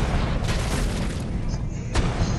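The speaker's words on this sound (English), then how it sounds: "That cannon missed!" Cannons firing in a naval warship video game, dull booms and bursts over a dense rumbling background, loud and close with a sharp hit near the end.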